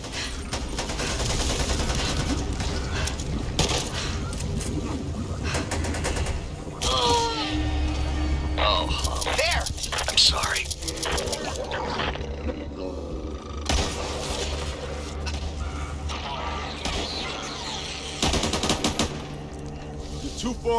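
Sustained automatic gunfire and explosive bursts from the video game Back 4 Blood, loud and dense with shattering hits, under shouted character voices.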